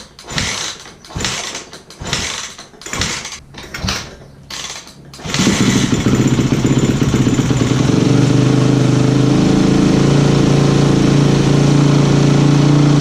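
A Yamaha YZ250F dirt bike engine, choke pulled, sputters through several short bursts, then catches and settles into a loud, steady idle with mechanical rattling.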